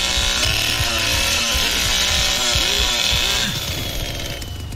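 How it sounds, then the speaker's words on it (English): Bubba's chainsaw revving in the Texas Chainsaw Massacre video game, a loud, close snarling buzz with repeated throttle surges that tapers off toward the end. "Bubba's chainsaw ability needs to be fixed, because it doesn't work most of the time"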